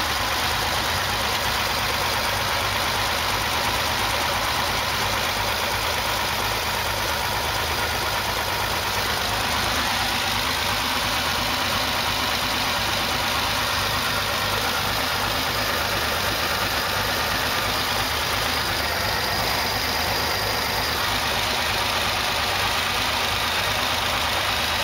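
A carbureted Porsche 911 engine idles steadily while warming up, a continuous close rumble with a faint mechanical knock running through it, holding an even level throughout with no voices.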